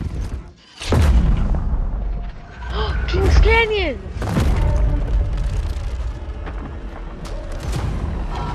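A grenade goes off during the Apex Legends Season 8 intro in the video game, a loud close boom followed by whirring, swooping mechanical effects and rumbling, with a voice talking over parts of it.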